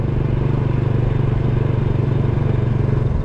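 A small 110cc motorcycle engine runs steadily nearby, a loud, even low putter with a fast regular pulse and no talking.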